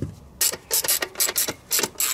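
Ratchet tightening the throttle body bolts on a BMW, with quick bursts of dry clicking in short repeated strokes, close and loud with brief pauses between.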